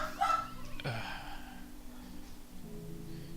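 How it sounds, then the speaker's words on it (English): A dog barks a few times close by early on, sharp and brief, over a quiet background of game audio and room tone. "Sorry, my dog's being annoying."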